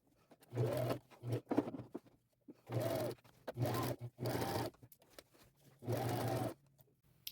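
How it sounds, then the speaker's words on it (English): A sewing machine stitches a quarter-inch seam around a crossbody purse in short bursts of rapid mechanical whirring, each run separated by brief pauses, close and clear. "I'm going back to my machine, and I'm going to slip this over that arm of the machine and stitch a 1/4 inch seam allowance"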